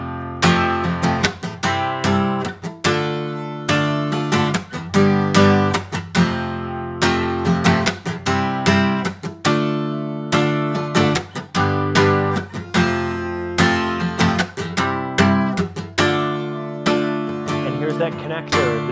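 Barre chords played on guitar in a slower rock rhythm, a steady pattern of strummed chord hits with short muted breaks, sustained and loud for the whole stretch.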